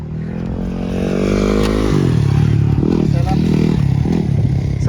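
A 450cc off-road motorcycle at a motocross track idles roughly, then revs up and holds a steady, throbbing pitch, loud and near, with voices talking over the engine.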